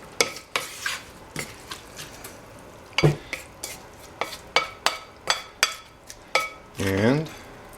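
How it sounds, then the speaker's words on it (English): A bowl of heirloom tomato salsa with coarsely chopped sweet and banana peppers is mixed by hand, a rapid series of sharp wet clacks and scrapes of a utensil against the bowl, close up. "You mix it up."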